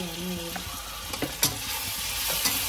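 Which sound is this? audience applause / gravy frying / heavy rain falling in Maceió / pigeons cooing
gravy frying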